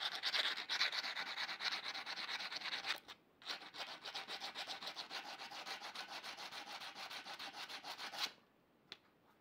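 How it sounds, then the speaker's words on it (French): A round metal file worked in steady, rapid back-and-forth strokes, close and rasping, pausing briefly before a long even run of strokes, then stopping with one last light knock. "j'ai pris la lime ronde, ça a été beaucoup plus vite"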